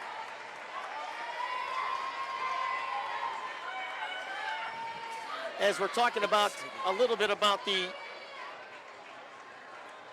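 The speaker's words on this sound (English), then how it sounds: "Excited crowd." Crowd in a high school gym for a Reynolds versus Grove City wrestling match, a soft murmur that builds into a run of sharp rhythmic claps or stomps, heard under a commentator talking.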